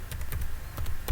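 Quick keystrokes on a computer keyboard, a handful of light clicks in an uneven rhythm, close and clear over faint room hum.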